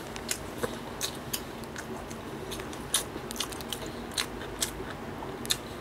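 Soft, quiet chewing of egg, tuna-mayo and pickled radish kimbap, with a string of small crunchy bites at irregular intervals, close up and with no talking.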